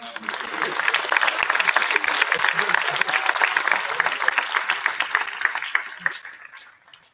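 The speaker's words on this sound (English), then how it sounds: "let's give him another round of applause" Audience applause at a safety prom assembly, a dense, sustained wash of clapping lasting several seconds before tapering off, with some voices mixed in.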